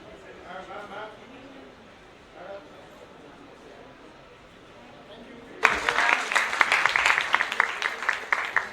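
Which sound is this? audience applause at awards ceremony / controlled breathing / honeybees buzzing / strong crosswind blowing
audience applause at awards ceremony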